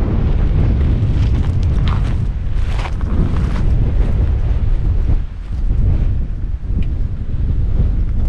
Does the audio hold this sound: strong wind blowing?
yes